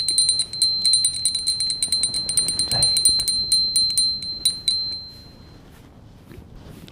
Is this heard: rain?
no